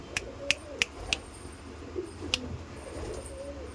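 A tame Giribaz pigeon coos alone in a low, soft call, with a few sharp clicking snaps earlier and faint background chatter around it.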